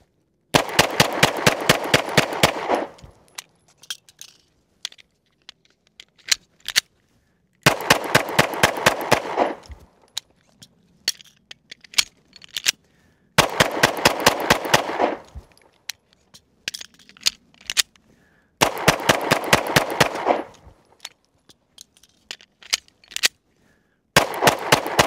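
A Springfield XD-S 4.0 single-stack 9mm pistol fires rapid strings of rounds in a reliability test, loud sharp shot bursts separated by quiet gaps with clicks and handling noises during reloads.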